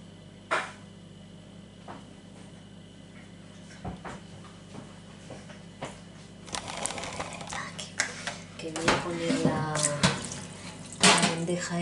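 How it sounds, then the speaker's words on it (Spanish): Hot water runs from a kitchen tap onto a tray, a splashing, clattering stream that builds in the second half with irregular knocks and bursts, close and fairly loud. "la voy a poner aquí con agua caliente la bandeja."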